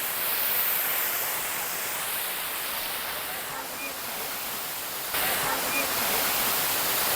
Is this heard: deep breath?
no